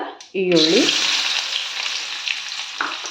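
Whole cinnamon, cardamom and cloves hit hot tempering oil with a sudden loud sizzle that settles into a steady close crackle, with a brief scrape of stirring near the end.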